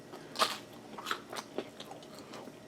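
Several sharp, crisp crunches from close bites into toaster-oven-cooked mozzarella sticks, spaced irregularly with quieter chewing between them.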